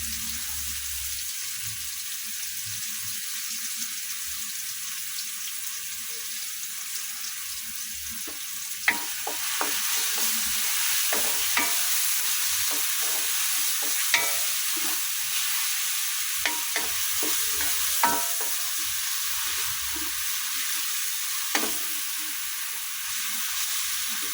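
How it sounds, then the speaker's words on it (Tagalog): Shrimp paste (alamang) stir-fried in a pan: a continuous bright hiss of sizzling oil, with scattered scrapes and taps of a utensil stirring through it, steady and close throughout with no talking. "lutuin natin yung alamang guys."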